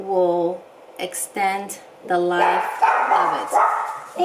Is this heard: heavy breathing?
no